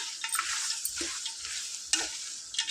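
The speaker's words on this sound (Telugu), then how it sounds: "దీన్ని మంచిగా చిత్తపటం అనేటట్టు మంచిగా ఫ్రై చేసుకున్నాం" Goat tripe (boti) frying and being stirred in a pan, a continuous bright sizzle with scraping spatula strokes near the start, the middle and just before two seconds, close and fairly loud with no voices.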